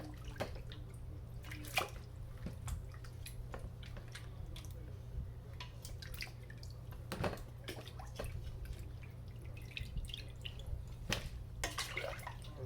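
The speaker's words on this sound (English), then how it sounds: "I'm just using a slotted spoon here to get the majority of them out" A slotted spoon lifts cooked vegetables out of a pot of homemade vegetable stock, giving soft scattered drips and small wet splashes over a low steady hum, fairly quiet and close, with no one talking.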